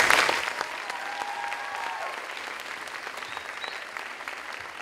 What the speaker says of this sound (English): that's Ms. Kennedy and Mr. Adams, who deserve a round of applause.